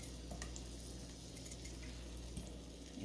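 Russet potatoes frying in shortening in a seasoned skillet, a steady soft sizzle and crackle close up with occasional faint clinks from stirring.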